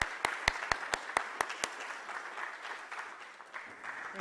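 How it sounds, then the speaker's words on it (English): An audience applauds to welcome a lecturer before an ecology and conservation talk, opening with a few sharp, evenly spaced close claps before settling into steady, fairly quiet clapping from the crowd. "please join your hands with me and give an applause"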